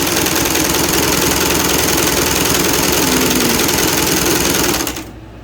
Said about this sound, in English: And so we're going to wind the bobbin